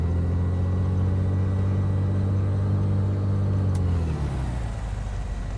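A propeller aircraft engine in Microsoft Flight Simulator drones steadily and loudly, then its pitch and rumble drop noticeably as the RPM falls near the end, settling into a softer, lower hum.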